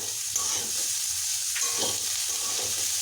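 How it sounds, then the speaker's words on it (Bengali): Raisins fry in oil alongside potatoes, pointed gourd and peanuts in a pan: a continuous close sizzle with soft scraping stir strokes, no voices. "আর একটু ভেজে নেব।"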